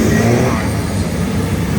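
Turbo diesel race trucks roaring around the Bang Saen street circuit in Thailand, a loud, continuous engine rumble with heavy low-end growl and no pause.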